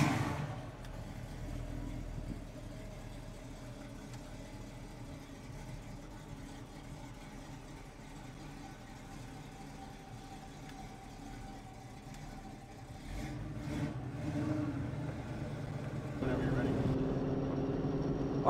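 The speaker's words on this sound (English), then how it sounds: "Let's go ahead and get this one on the road and go for a test drive." A 1972 Chevrolet Camaro Z28 split-bumper restomod being driven on a road, its low engine drone and road rumble steady and close, swelling slightly toward the end.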